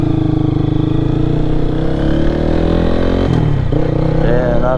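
A 2023 Lifan KPM 200 motorcycle engine runs steadily in first gear, a loud continuous engine drone with a constant pitch that briefly dips near the end before settling again.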